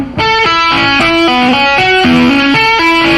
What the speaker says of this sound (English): This tapping lick is based around a pentatonic box